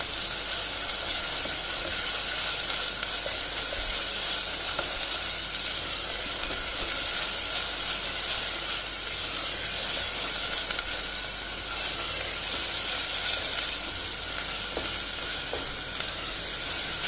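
Garlic paste frying with cooked onion in a pan gives a steady, dense sizzle and hiss that runs unbroken throughout, loud and close, with faint stirring scrapes and no voices.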